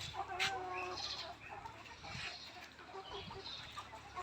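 Layer pullets about 110 days old clucking on a poultry farm, with a busy, continuous mix of overlapping hen calls and low farmyard noise at close to moderate distance.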